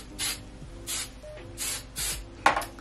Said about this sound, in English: I need to spray it with hairspray so that it doesn't fall super quick